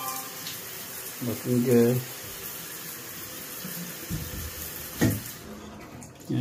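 A motel room shower running steadily, a constant close hiss of water spray with someone speaking briefly over it.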